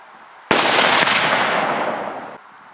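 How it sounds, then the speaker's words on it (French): One sharp, very loud blast of a cannon firing a blank, hitting suddenly and rolling into a broad roar that fades over about two seconds, close by. "ici vous pouvez voir différents parcs de canons"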